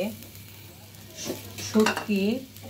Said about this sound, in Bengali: চিংড়িগুলো ভেজে নিচ্ছি ভর্তা করার জন্য